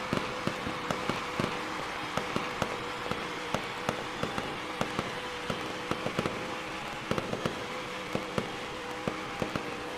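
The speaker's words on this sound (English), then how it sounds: "as the fireworks go off" Fireworks crackling and popping in sharp irregular bursts after a race win at Daytona in the NR2003 racing game, fairly faint over a steady background wash of crowd and engine noise.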